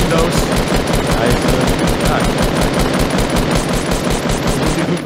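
Rapid automatic gunfire from the video game Fortnite rattles on without a break, dense loud bursts packed close together and lasting the whole stretch, with only slight voice underneath.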